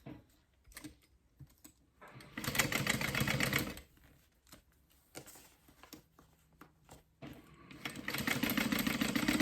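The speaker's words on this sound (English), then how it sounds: "I'm going to top stitch in there, or baste" A sewing machine makes basting stitches on a simple fold-over clutch in two separate bursts of steady whirring, with quiet handling and fabric noises in the pause between.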